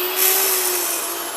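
An electric wheat grinder runs while grinding wheat kernels into flour for sourdough: a loud, steady, close-up whirring drone like a vacuum cleaner, with a high motor whine, lasting throughout with no talking.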